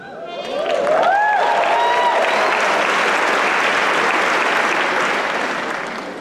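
A large crowd claps at a high school graduation, the applause swelling quickly to a loud, dense wash that holds steady for several seconds and then tapers, with a few whistles and cheers early on.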